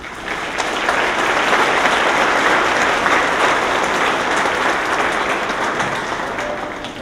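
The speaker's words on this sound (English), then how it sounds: "Please join me in a round of applause to thank these faculty members for their service" A commencement audience applauds its faculty marshals at an evening ceremony, a dense, steady wash of many hands clapping at once that holds at full strength for the whole stretch with no voices over it.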